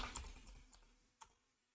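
A handful of separate key taps on a computer keyboard, faint and close, come as a few sparse clicks with gaps between them.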